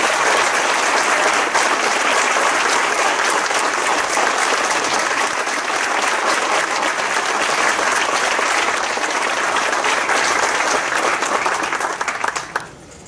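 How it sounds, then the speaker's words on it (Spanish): A large audience applauds loudly and steadily at a ceremony marking the 70th anniversary of Costa Rica's abolition of its army, the dense clapping holding for most of its length before tapering off at the end. "Para ellos este aplauso."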